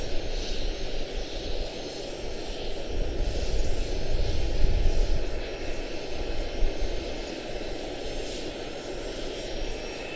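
An airliner lands at Charlotte-Douglas International, its engines giving a steady, fairly loud broadband roar with a low rumble that swells slightly in the middle and holds, no talk over it.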